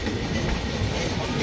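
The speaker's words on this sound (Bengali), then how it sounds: "এটা হচ্ছে সম্বলপুর থেকে পুরীগামী এক্সপ্রেস" Sambalpur–Puri Intercity Express train rolling past near Bhubaneswar, a steady dense rumble of wheels on rail with low clatter, continuous and close throughout.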